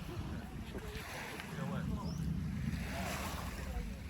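Sea waves washing onto a secluded beach on Perhentian Island in Malaysia, a broad rushing surf with wind buffeting the microphone, while people talk over it.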